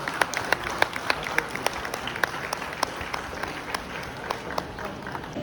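Loud audience applause at a college Teachers Day program, many hands clapping in a brisk, sharp, continuous patter that holds steady throughout.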